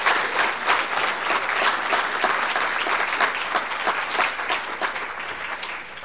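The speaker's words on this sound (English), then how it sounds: "Quick, clap, clap, clap," Audience applause at a recycling summit hosted by a chamber of commerce, a dense, steady wash of many hands clapping for the full stretch without a break.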